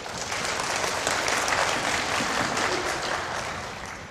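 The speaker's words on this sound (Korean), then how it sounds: "우리 다산 120을 위해서 큰 박수 한번 줘," Sustained applause from a seated lecture audience, a thick, even wash of many hands clapping at moderate level that holds without breaks and eases slightly toward the end.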